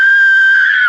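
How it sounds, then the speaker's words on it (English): A child's scream as a radio drama sound effect: a single piercing, sustained high-pitched scream lasting about a second, loud and close, trailing off sharply at the end. "that sounds like a kid screaming"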